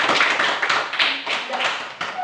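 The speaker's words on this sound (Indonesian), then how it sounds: "Ya, tepuk tangan." Classroom applause from children during a lesson, dense rapid clapping with distinct sharp hand claps, close and loud, lasting a couple of seconds.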